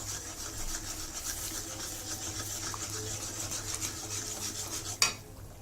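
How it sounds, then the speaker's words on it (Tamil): A spoon stirs semolina in a pan for rava kesari, producing a soft, continuous scraping and rubbing close by, with a single sharper clink near the end. "இப்போ இந்த ரவையை போட்டு கிண்டலாம்."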